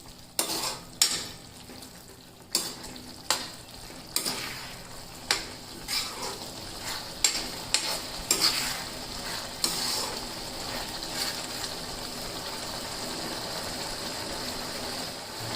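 Vegetables and spices for poha are stirred in a pan with a spoon, giving repeated sharp scrapes and clinks over a steady sizzle that grows smoother and more continuous toward the end.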